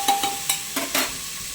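Green chili frying and being stirred in a pan for masale bhat, with a few short scraping stirs over a soft steady sizzle, close by.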